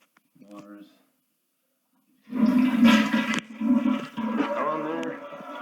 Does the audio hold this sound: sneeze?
no